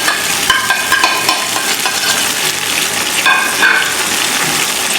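Tomatoes, green chillies and dry spices sizzle in a pan for beef pulao, with a constant loud frying hiss and stirring scrapes close by.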